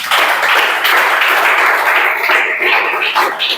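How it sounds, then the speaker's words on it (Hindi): Several people clap together in a classroom after a correct quiz answer, a dense steady patter of applause that stays loud and fairly even throughout. "बिल्कुल सही है, ताली बजाओ भाई"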